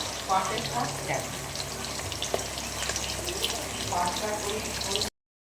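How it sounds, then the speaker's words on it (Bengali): Fish frying on a home stove, a steady close hiss and crackle of hot oil running throughout, with a voice speaking over it at moments. "এদিকে বসিয়েছি মাছ ভাজা"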